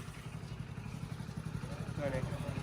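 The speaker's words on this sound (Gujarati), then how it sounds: "આપણે બાઇક ચાલુ કરી દીધી" A motorcycle engine running steadily at idle, a low rhythmic putter held close throughout while someone talks over it.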